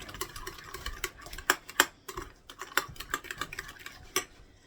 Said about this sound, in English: I'm going to mix that in with the barbecue sauce